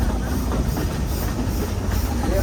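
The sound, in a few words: steam train ride at Silver Dollar City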